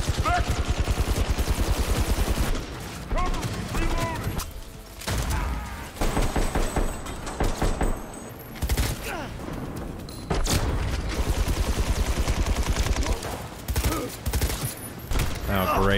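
Heavy machine gun fire rattles in rapid, dense bursts during a Cyberpunk 2077 firefight, loud and close with brief pauses between volleys, booms and thuds mixed in, and someone talking over it.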